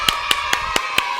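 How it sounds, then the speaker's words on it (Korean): Children give welcoming applause in a church chapel during a Sunday elementary-school service, heard as five evenly spaced, sharp claps in steady rhythm, close and fairly loud. "환영의 박수 보내줄까요?"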